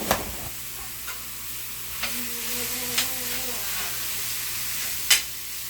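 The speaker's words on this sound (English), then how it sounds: "as you can hear, my skillet is already on" A soft, steady sizzle of meat frying in a pan, with a few light taps and clicks of a utensil against the skillet.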